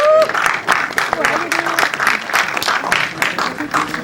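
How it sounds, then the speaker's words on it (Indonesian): Applause from the audience at a press conference for an animated film release, a dense, loud round of clapping throughout, with some voices faintly mixed in. "Silakan, boleh kita kasih tepuk tangan?"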